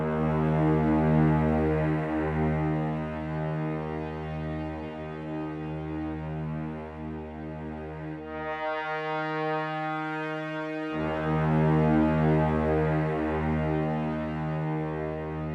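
Trumpets and trombones from a symphony orchestra sample library swell through the Terminator theme, sustaining dense, buzzy brass chords that hold steadily, briefly thin out, then return at full strength.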